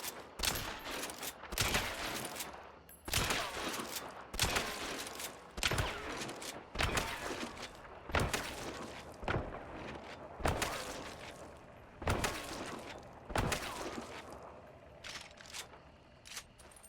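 Caldwell Marathon rifle fired repeatedly in Hunt: Showdown, a loud run of sharp gunshots spaced about a second apart with brief mechanical clicks between, no talk.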